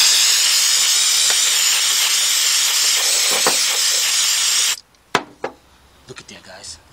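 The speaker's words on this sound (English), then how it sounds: "Take your carburetor cleaner up, clean up the valve seat." Carburetor cleaner sprayed onto a Volkswagen Beetle's cylinder head valve seat during a head gasket job, a loud steady aerosol hiss lasting nearly five seconds, then a cut-off followed by a few faint clicks and handling noises.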